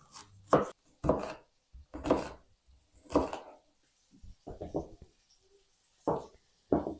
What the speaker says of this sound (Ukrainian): Дві середніх цибулини наріжу кубиком.